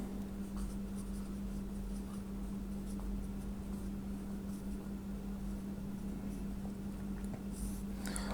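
Pen or chalk writing out a geometry proof about a circle, soft continuous scratching strokes under a steady low electrical hum in a quiet room.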